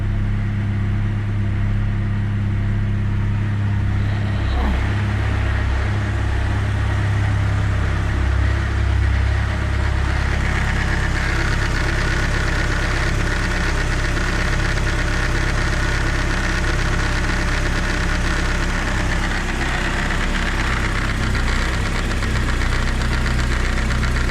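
A Mercedes W203 2.0 petrol engine idles steadily with a low, rumbling knock after starter replacement, running continuously and fairly loud with no talking.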